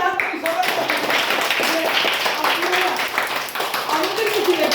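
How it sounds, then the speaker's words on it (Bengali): A crowd claps loudly and steadily, a dense wash of hand claps filling the whole stretch, with a voice faintly underneath. "আর সেই জন্য জোরে একটা হাত তালি সবাই।"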